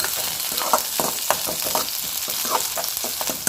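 Green chillies and curry leaves sautéing in oil in a pan, a steady sizzle broken by repeated scraping strokes of a stirring spoon at a fairly even rhythm, close and without talk.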